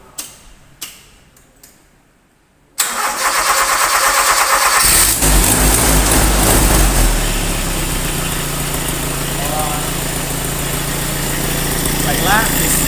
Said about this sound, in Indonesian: Selanjutnya kita lakukan percobaan menghidupkan mesin.